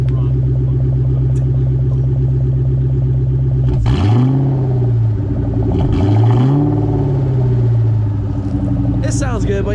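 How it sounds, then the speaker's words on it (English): A 2003 Ford Mustang Mach 1 V8 idles with a deep, steady rumble, then is blipped twice in quick succession. Each rev rises sharply and falls back to idle before a faint voice speaks at the end. "give her a little rev. Nothing crazy."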